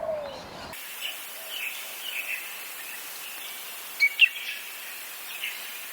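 An Australian honeyeater gives harsh, scratchy calls, faint and somewhat distant over a quiet outdoor background, with a couple of sharper notes near the middle.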